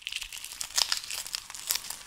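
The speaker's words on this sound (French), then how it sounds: "on nettoie la tête d'ail pour le rendre présentable, cet aspect qui craque" Dry papery skin on a head of garlic crackles and crinkles as it is peeled by hand, a close, quiet run of irregular crisp snaps and rustles with a few sharper crackles, no voices.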